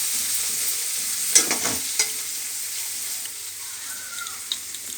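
Carrots and cabbage frying in oil in a pan, a steady soft sizzle with a few clinks and scrapes of stirring, close and fairly quiet, with no talking.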